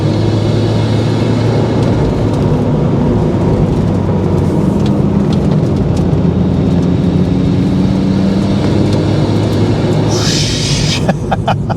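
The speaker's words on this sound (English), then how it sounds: "just love the turbo sounds." A turbocharged car driving fast through tight 20 mph turns, its engine a steady loud drone with shifting pitch and a burst of turbo hiss and whoosh near the end.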